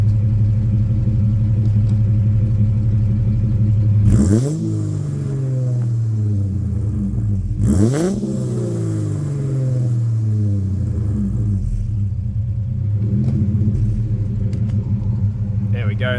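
Car engine fitted with Pacemaker 4480 headers revs twice to about 3,000 and 4,000 RPM, each rev a sharp rise that falls back to a steady, loud, rumbling idle, close and alone.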